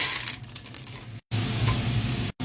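Onions from the freezer fry in a pan with a steady, close sizzle, cut by two brief moments of silence.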